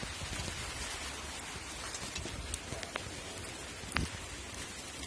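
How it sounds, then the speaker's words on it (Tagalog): Heavy rain falls steadily outdoors in Cebu, a dense, even hiss of drops with occasional louder splats, alone without talk. "Grabe yung ulan."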